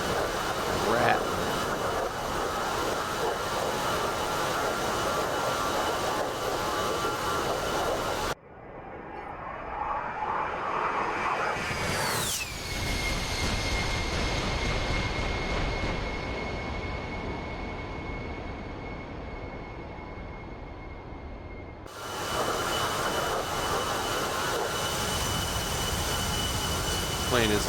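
A-10A jet engine in the DCS Flaming Cliffs flight game, a steady whining roar with a high tonal whine that abruptly shifts midway, then the full engine noise returns; speech is heard.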